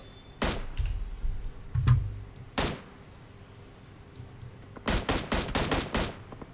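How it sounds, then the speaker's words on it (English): Gunfire crackles in PUBG Mobile during a tournament match. A few isolated loud shots and a thudding impact come first, then a rapid burst of automatic fire close by. "Constant shots being fired."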